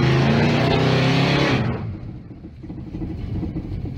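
Car engine roaring during a burnout at a burnout callout event: a loud, steady, rough drone that suddenly drops off partway through, leaving a lower rumble behind, with no talking.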